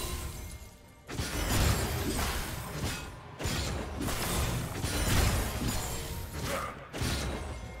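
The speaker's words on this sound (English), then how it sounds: "Blue team's turret has been destroyed." A turret crumbling during a League of Legends match, with repeated loud crashing, shattering and grinding mechanical bursts in several waves, dense and close, with no talk.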